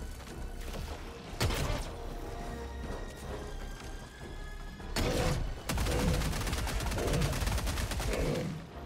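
Rapid bursts of Tenderizer assault rifle fire in a video game, two dense volleys of quick shots, loud and close, with faint game sounds between bursts.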